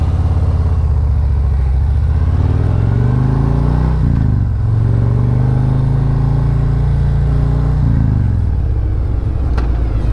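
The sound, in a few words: motorcycle cruising, braking hard and swerving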